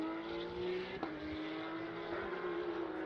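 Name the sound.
Porsche race car engine, number 56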